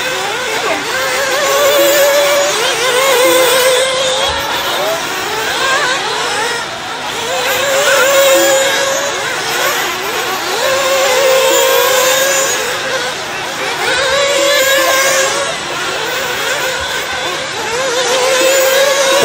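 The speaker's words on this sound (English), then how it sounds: "Chad Phillips working his way around some light traffic." Off-road buggies in a 40-plus class race at a fall event, engines revving and droning continuously at mid distance, with pitch rising and falling in repeated waves as cars pass.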